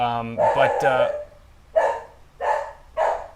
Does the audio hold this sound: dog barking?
yes